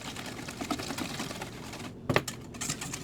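A whisk beating a sweetener mixture into keto custard pie filling, a quiet, quick rhythmic clicking and swishing against the bowl, with one sharper clatter near the end.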